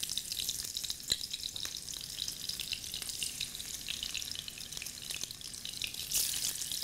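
Sliced zucchini fries in hot oil with turmeric powder, giving a steady, dense sizzle and crackle with occasional sharper pops, close and continuous with no voices.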